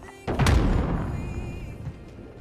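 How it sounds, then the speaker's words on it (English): Video game precision airstrike detonating: a heavy boom lands right away and rolls on as a dense, sustained rumble that slowly fades, with no speech over it. "Enemy precision airstrike inbound."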